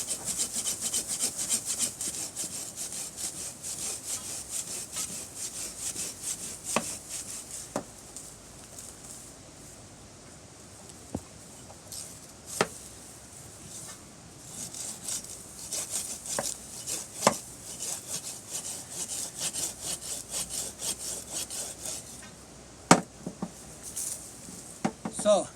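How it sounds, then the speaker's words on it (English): A pruning saw cuts through a woody plant stem, giving a long run of close, raspy back-and-forth strokes with scattered sharp clicks and knocks, steady and moderately quiet with brief pauses. "I got a pruning saw."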